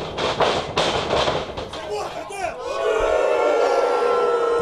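Crowd at a Just For Laughs 2018 comedy wrestling match roaring and cheering for the Green Phantom, a dense loud wash of voices with scattered sharp claps and shouts, swelling into a sustained cheer.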